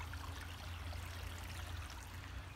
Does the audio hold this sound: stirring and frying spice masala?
no